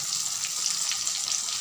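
Mustard seeds, cucumber, tomato, green chillies and curry leaves frying in hot oil, a steady close sizzle with soft crackles and no talking.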